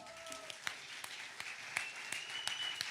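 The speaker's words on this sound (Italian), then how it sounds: "un grande applauso" An audience at a folk music concert applauds, a moderate scattered patter of clapping with a handful of distinct louder claps over soft room noise.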